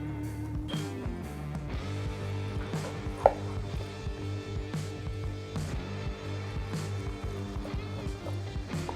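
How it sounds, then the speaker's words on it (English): A knife slices through Jamaican jerk pork ribs with a quick series of close, rhythmic chops and taps, set against steady background music. "Let's go ahead and cut this bad boy"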